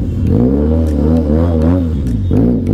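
A Benelli TRK502X motorcycle engine revs up close and loud, its pitch sweeping up and down in repeated throttle blips with a deep, throbbing exhaust note.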